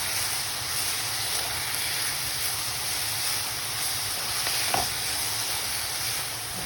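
Chicken with soy, oyster and fish sauce sizzles in a pan, a constant hissing wash that stays even and close from start to finish, with one faint clink.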